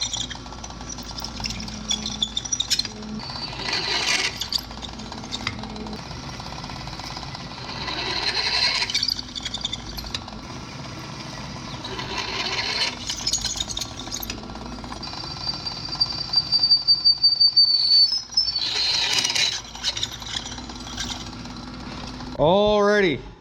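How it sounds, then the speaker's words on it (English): Drilling holes through steel stock for a forged trammel hook: a drill press or hand drill whines and grinds in repeated bursts with pauses between, fairly loud and near, with a shop hum underneath. "let's go get them drilled out"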